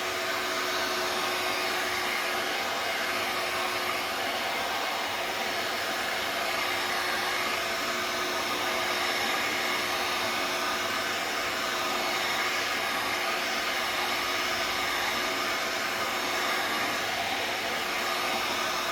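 Hair dryer blowing steadily on the painted rim of a plastic cosplay helmet, a constant close whirring hiss with no breaks and no talk.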